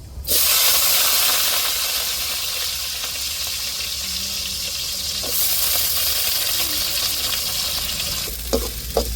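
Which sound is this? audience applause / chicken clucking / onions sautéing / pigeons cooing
onions sautéing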